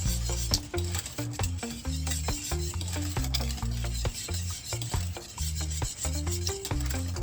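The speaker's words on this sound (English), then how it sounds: "when you keep stirring up your porridge, it doesn't stick in the butter" A spoon scrapes and rubs rhythmically through thick Jamaican cornmeal porridge made with coconut milk in a pot, with repeated close stirring strokes and no talking.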